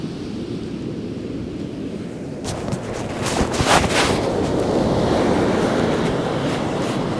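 Sea waves break and wash onto a beach at South Withernsea on the Holderness coast at spring sunrise, a steady broadband roar with wind buffeting the microphone, swelling louder as a bigger breaker crashes midway.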